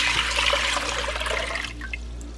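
Water for sugar syrup pours into a pot in a loud, steady rush that tapers off near the end, with faint trickling as the flow stops.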